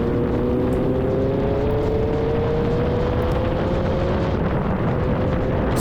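A Formula Vee race car rolls steadily toward the pit lane at Mondello on a wet day, its loud engine droning with a slowly rising tone over a constant rumble, no other sounds standing out.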